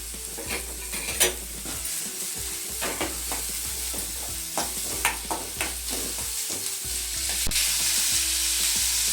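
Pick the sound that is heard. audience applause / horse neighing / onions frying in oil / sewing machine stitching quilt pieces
onions frying in oil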